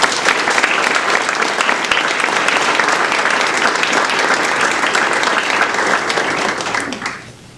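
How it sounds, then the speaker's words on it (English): Sustained applause from an audience at an academic awards ceremony honoring award recipients, a dense, loud, even roar of many hands clapping that holds steady for several seconds before fading out at the end. "If you would please give them all a round of applause"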